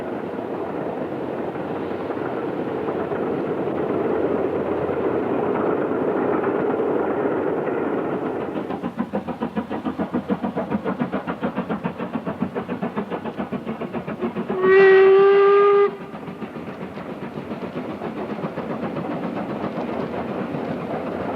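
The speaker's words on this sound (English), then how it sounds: "George Stephenson was the first steam loco to leave Tain for 25 years, heading north towards the Dornoch Firth." The steam locomotive George Stephenson hauls a train north from Tain toward the Dornoch Firth in the Scottish Highlands, with a steady rumble and rhythmic clatter of wheels throughout and a loud whistle blast about two-thirds of the way through.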